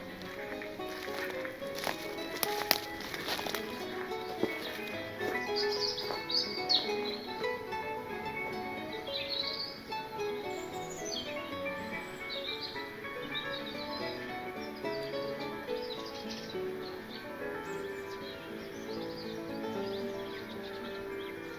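Birds sing and call in a peaceful wooded gully on Ebernoe Common, once a clay pit dug for brick making; scattered chirps and short phrases run steadily throughout, moderately distant, over soft background ambience with a few brief louder knocks near the start.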